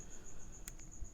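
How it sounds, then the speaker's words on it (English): A single cricket chirps steadily at night, a thin high trill pulsing in even bursts, close and clear over a faint quiet background. "I know you guys can probably hear that cricket."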